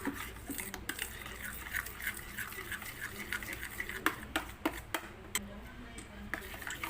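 Spoon mixing mango float dessert ingredients with condensed milk in a bowl, making close, repeated scraping and clinking strokes in an irregular rhythm, with faint background sound.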